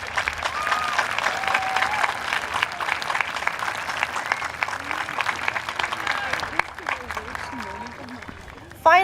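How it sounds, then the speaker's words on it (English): A graduation ceremony audience applauds parents and guardians, a dense, steady wash of clapping from a large crowd that carries on for several seconds before a voice speaks over the tail end. "give your parents and guardians a round of applause for all they have done to bring you"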